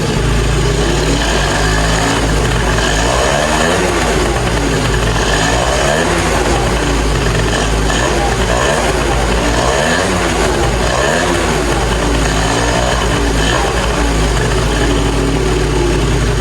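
A 2005 Yamaha Zuma scooter fitted with a cheap big bore kit runs on a dyno on three-month-old gas, its small engine buzzing loud and steady at a high idle throughout, close and unbroken, with no voices.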